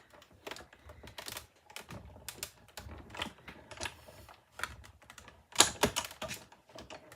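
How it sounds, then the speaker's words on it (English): A die-cutting machine cranks paper shells through in bursts of irregular clicking and clacking, quite close and moderately loud, with short pauses between turns. "we're gonna run that through. And it's gonna die cut everything all at the same time for us."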